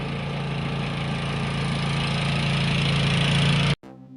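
A tractor engine idles with a steady low rumble and hum, running continuously before cutting off abruptly near the end.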